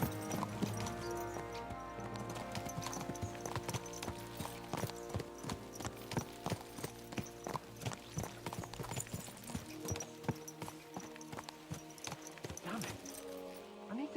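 Horses in the medieval video game Kingdom Come Deliverance II clip-clop in a fast, rhythmic run of hoofbeats over a steady music bed, continuous and moderately loud.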